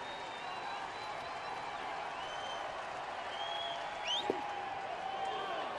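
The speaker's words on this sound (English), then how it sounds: "Fans are chanting, let's go Royals." Baseball stadium crowd at a Royals home game, a broad sustained roar and rhythmic chanting from tens of thousands of fans, heard at a distance under a broadcaster's commentary.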